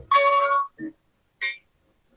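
Phone ringtone playing in brief bright tones: a long sustained note, a short low blip, then a short chime, with no speech.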